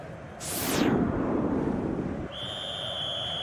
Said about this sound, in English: That's the half-time whistle.